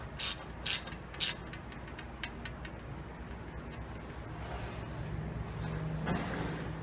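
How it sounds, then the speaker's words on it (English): A quarter-drive ratchet with a T25 Torx bit tightens a bolt on a Schiller S1 water bike, giving three sharp clicking bursts near the start, then faint clicks and low mechanical shuffling. "I've got a quarter drive ratchet with a T25 Torx, and I'm going to slowly draw down"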